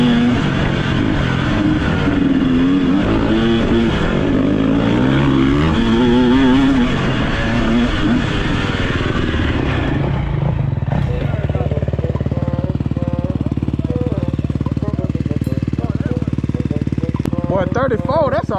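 A KTM 250 SX dirt bike engine on a trail, revving loudly and continuously with rising and falling pitch, then settling into a steady drone, with people talking.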